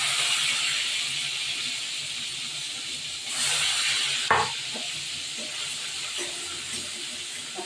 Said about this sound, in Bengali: এবার মাছগুলো ভাজা ভাজা করবো।